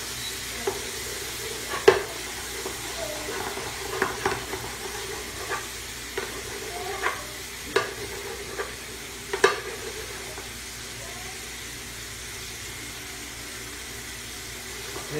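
Pork chops fry in a pot on high heat, giving a steady close sizzle with intermittent clinks and scrapes of stirring.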